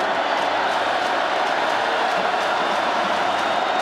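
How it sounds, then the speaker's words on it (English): A crowd of over 53,000 roars steadily at a college football bowl game, Texas Tech against Ole Miss, as a continuous, distant-sounding wash of cheering with no breaks. "This crowd comes back to life"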